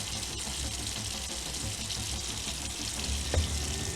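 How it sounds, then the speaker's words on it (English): Tap water runs into a pot while rice is rinsed for jollof party rice, a steady broadband splashing rush with a brief knock of grains or pot near the end, no voices. "The water's running clear"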